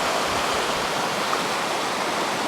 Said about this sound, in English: The river down there, you can hear.